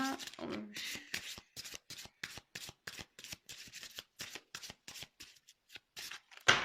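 Tarot cards being shuffled for a love reading: a fast, even run of crisp riffling bursts, close and fairly quiet, about three per second with short gaps, after a brief rustle at the start.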